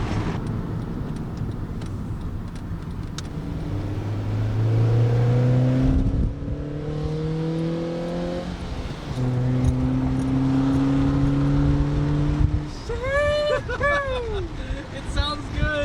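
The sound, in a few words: Honda Fit engine revving with Injen intake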